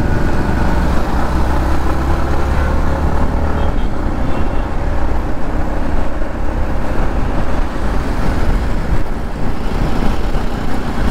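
Heavy road traffic surrounds a Yamaha MT-15 V2 as it rides along, a loud constant roar of engines and wind noise close by, with no clear breaks across the whole stretch.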